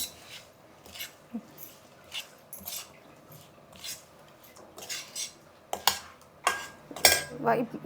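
A spoon stirs drumstick sambar with salt in a cooking pot, producing close, repeated scraping and clinking strokes in an uneven rhythm with short pauses, growing louder toward the end.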